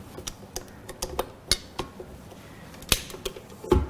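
An attachment is fitted onto a stand mixer, making a string of light metallic clicks, taps and clinks in an uneven rhythm, close and fairly quiet, with a sharper clank near the end.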